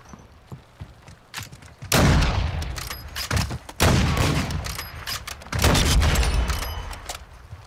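Gunfire in a shooter video game: loud, close bursts of rapid shots in three heavy volleys, each tailing off into reverberant decay, with scattered single pops between them.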